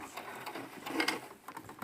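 A home sewing machine stitches cloth for a fabric face mask, giving a short mechanical burst of rapid needle clatter that swells in the middle and then eases off. The machine sounds close, with no voices.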